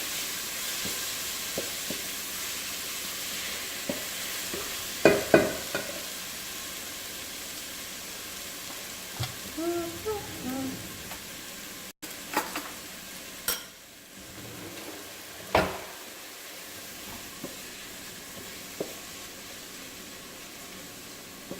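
Carrot sauteing in a pot for one-pot Jamaican-style seasoned rice, with a low steady sizzle and scattered stirring clinks and scrapes of a utensil against the pot, close by and fairly quiet, with no talking.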